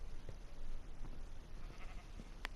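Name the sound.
sheep bleating in a video game (SkyJam)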